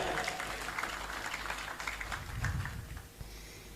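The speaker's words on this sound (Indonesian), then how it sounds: "Tepuk tangan untuk Indonesia Raya." Crowd applause for the Indonesian national anthem Indonesia Raya at an Islamic gathering, a steady dense wash of clapping from many hands at moderate level, with faint voices mixed in.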